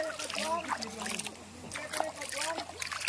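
Light splashing and sloshing of cold water as someone wades and plays in it, soft irregular splashes heard under a person speaking nearby.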